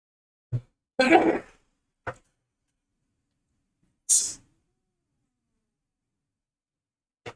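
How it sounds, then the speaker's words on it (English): A single sharp sneeze burst stands out from near-silence, flanked by a few brief quiet throat and breath noises spread over several seconds. "gonna sneeze."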